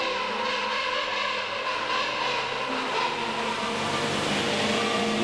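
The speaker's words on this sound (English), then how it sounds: "The penguin's call is absolutely astounding" Penguins give a loud, sustained braying call at a Singapore wildlife park, with layered harmonic tones rising into a crescendo over steady background noise for about five seconds.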